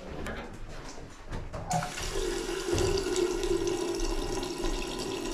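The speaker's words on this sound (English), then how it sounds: "Yeah, well, the water's working." A tap is turned on in an abandoned hobbit house, and water rushes steadily into a sink after a short quiet lead-in, close and continuous until the end.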